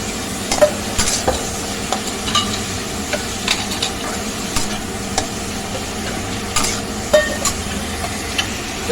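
Vegetables stir-frying in a pan for chowmein, with a steady close sizzle and frequent scraping, clattering stirs throughout, no voices.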